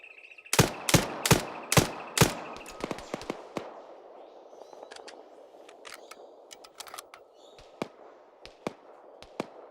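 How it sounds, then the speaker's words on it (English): Gunfire in a video game: a volley of five loud, evenly spaced shots, then scattered fainter distant shots and cracks over a low rumble. "I'm taking a lot of fire."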